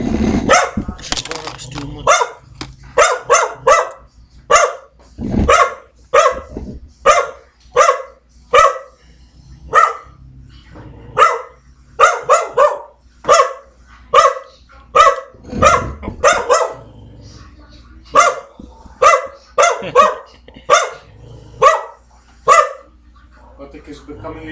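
A dog barks over and over in sharp, loud, close bursts with short pauses between them, with occasional growls, and a voice speaks now and then.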